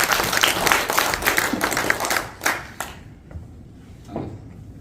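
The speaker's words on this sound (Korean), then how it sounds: "박수 부탁드립니다." An audience at an education association officers' training event applauds, a dense patter of clapping for about two and a half seconds that quickly thins to a few scattered claps and quiet room noise.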